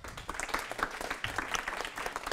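An evening event audience applauds a named guest with a crisp, scattered patter of many hands, steady and fairly close, with a little murmur underneath.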